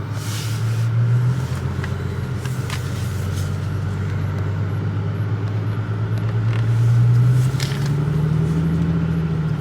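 A car cruising on a test drive for a driveline vibration check, a steady low engine drone and road rumble that swells slightly toward the end.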